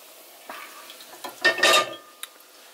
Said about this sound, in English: and then strain this oil